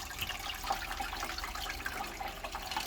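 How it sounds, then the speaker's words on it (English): Water pouring steadily from the outlet of a Fluval 407 canister filter into an aquarium, a continuous close splashing and gurgling stream with no talk. "Water is now coming out the outlet."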